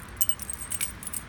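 Car keys for a 1967 Mustang jingle softly and close by in a quick series of light metallic clinks.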